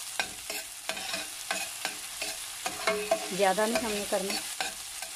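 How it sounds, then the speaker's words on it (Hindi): Onions fry in a little oil in a pot, sizzling while a spoon stirs and scrapes in repeated strokes, and someone speaks briefly in Hindi. "अब इसके अंदर हम प्याज डालेंगे। बस 1 मिनट हम इसको बस फ्राई करेंगे अभी"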